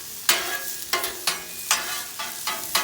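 Thai chicken noodles fry in a pan, with a steady sizzle punctuated by about six sharp scraping stir strokes at irregular intervals, close and moderately loud, no voices.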